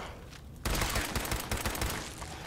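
Gunfire from a weapon fired from the hip in the video game Fallout 4, a loud, dense burst of rapid shots that starts suddenly after a quiet moment and keeps rattling steadily to the end.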